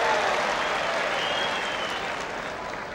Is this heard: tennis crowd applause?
yes